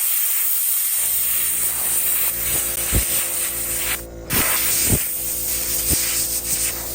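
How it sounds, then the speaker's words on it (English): A Harbor Freight Central Pneumatic soda blaster sprays steadily on a wooden table being stripped for refinishing, a loud continuous hiss with a brief pause midway and a few faint mechanical clicks underneath. "here's the Harbor Freight Soda Blaster from Central Pneumatic"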